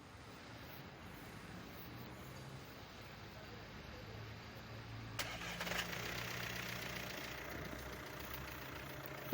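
A 2012 VW Amarok's turbocharged direct-injection TDI diesel engine cranks and catches partway through, then settles into a steady idle, heard alone with a continuous low rumble.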